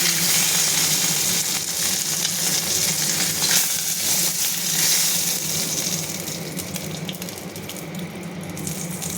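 Hilsa fish fries in hot oil in a pan, giving a dense, steady sizzle and crackle that stays loud throughout and eases slightly toward the end, with no voices.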